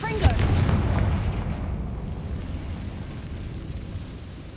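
A Confringo fire blast spell cast in Hogwarts Legacy bursts with a single loud booming impact at the start, then a rumbling roar trails off slowly over a few seconds.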